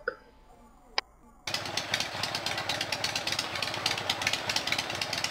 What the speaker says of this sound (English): is that a motorcycle, Ginger Kid? Are you really trying to get away from me on a bike?